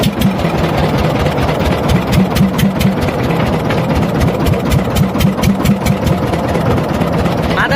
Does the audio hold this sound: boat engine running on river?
yes